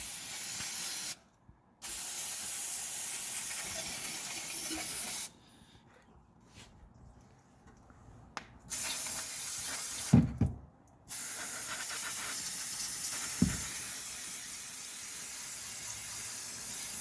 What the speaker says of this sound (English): Spray it down as much as you can.